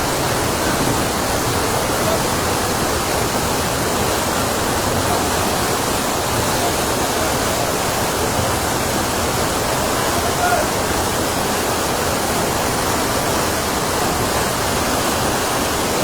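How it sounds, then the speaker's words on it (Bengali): Receding floodwater in Feni rushes away in a continuous, loud, broadband roar, like a strong stream or small waterfall, steady throughout with no voices. "এভাবে পানি নেমে যাচ্ছে।"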